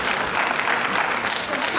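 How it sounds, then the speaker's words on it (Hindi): Audience applause at a swearing-in ceremony, a steady, dense wash of clapping that runs for the whole short stretch at even loudness, with some voices mixed in. "ताली बजा दीजिए, बहुत अच्छा।"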